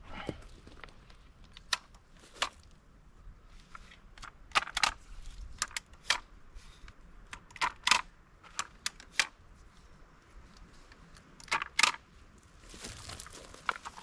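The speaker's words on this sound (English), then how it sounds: "you click it once, it grabs your tape and it pulls it out" Sharp, scattered plastic clicks and snaps from a garden tape tool tying a tomato plant to a stake, about a dozen brief clicks spread irregularly over a quiet background.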